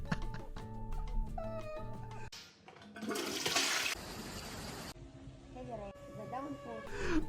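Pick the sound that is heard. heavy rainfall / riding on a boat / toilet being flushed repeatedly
toilet being flushed repeatedly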